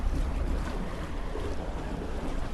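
Swimming in water in the VR game Animal Company comes through as a dense, steady whoosh and rumble of moving water, continuous and close with no pauses.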